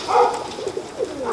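A pigeon coos, soft and low, in a short rolling call heard close against a faint background hum.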